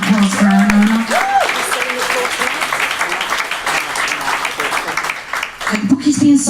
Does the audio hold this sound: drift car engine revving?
no